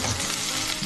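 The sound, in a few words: whole spices and shahjeera sizzling in hot pan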